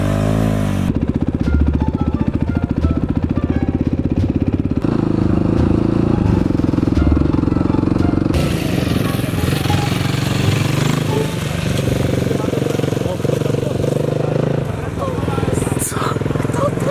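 A scooter engine buzzes continuously and close as it is ridden, with a rougher, changing note partway through, while people talk over it throughout.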